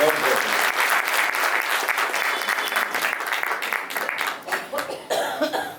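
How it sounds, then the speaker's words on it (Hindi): An audience at a Vedic preaching gathering in East Delhi breaks into sustained applause, dense clapping that carries on steadily before thinning toward the end, with a few coughs mixed in. "अगर आप अनुमति तालियों से दें"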